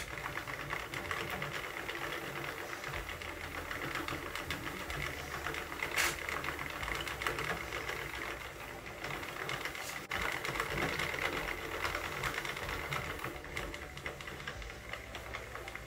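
A Sentro circular knitting machine cranks through rows of waste yarn with a steady, fast clicking whir that runs continuously and evenly, briefly dipping once before resuming at the same pace.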